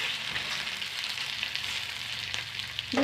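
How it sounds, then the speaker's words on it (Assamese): Food fries in a pan for a home recipe with a steady, close crackling sizzle and occasional small pops, running throughout with no talk. "এনেকৈ ফ্ৰাই কৰিব।"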